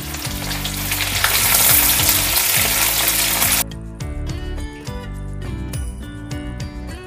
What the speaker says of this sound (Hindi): तो उसको भी हम इसी में थोड़ा सा फ्राई कर लेंगे।